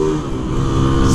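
Motorcycle fitted with a loud Polimet tin exhaust revs hard up close, a continuous raspy roar rising in pitch toward the end with no talk over it.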